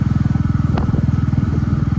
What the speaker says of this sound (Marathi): तर बाईक आहे, मी आता माझी बुलेट घेतो